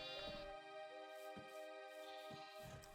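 A sheep bleats in TerraFirmaCraft, a Minecraft mod, with a few drawn-out, nasal, wavering calls close by over a steady tonal game background.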